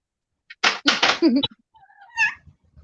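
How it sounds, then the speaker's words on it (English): A house cat gives a couple of short squeaky chirps while jumping onto a bed, heard close by right after a burst of loud nearby speech. "Was that your cat squeaking?"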